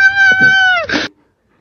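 Cat meowing up close: one loud, drawn-out meow that falls in pitch and breaks off into a short rough ending, then silence.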